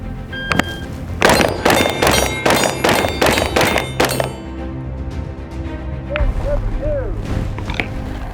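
An AR-15 carbine fires a rapid string of about seven loud, close shots, each ringing a steel target 50 yards away, followed by quieter ringing and a brief voice.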